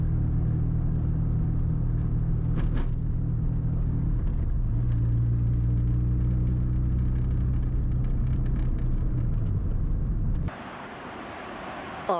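A Mazda FC RX-7 drives under a hard pull, its rotary engine rumbling loudly and steadily close by with shifting tones, then cutting off abruptly to quieter road noise near the end.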